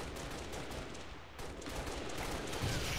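Rapid gunshots in a shooter video game, a continuous spray of automatic fire and overlapping bursts throughout, loud and close with busy game noise underneath and no talk.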